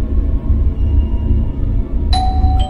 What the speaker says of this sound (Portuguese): A campainha?